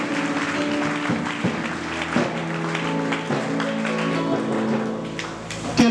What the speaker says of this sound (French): on nous applaudit maintenant.